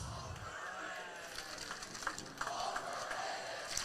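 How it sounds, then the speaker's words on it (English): Crowd at a high school football game, Hudson Raiders against River Falls, giving a distant, steady cheer with swelling shouts, a broad roar that stays level and lifts slightly toward the end. "Oh, we're getting an overrated cheer now."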